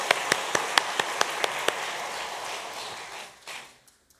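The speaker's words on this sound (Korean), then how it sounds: "영광 받으신 하나님께 다시 한번 박수하겠습니다." Church congregation applauding during a Sunday worship service, starting with a few sharp, evenly spaced claps, then a softer smattering that thins out and dies away to near quiet.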